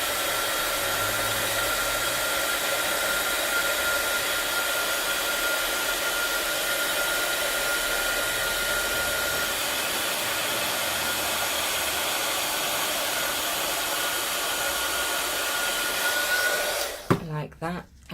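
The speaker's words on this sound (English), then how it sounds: "using my heat gun, I'm just going to heat this up." Heat gun blowing hot air over an embossed stamped card, a steady loud whirring roar running unbroken for most of the clip before it cuts off near the end amid brief handling noise.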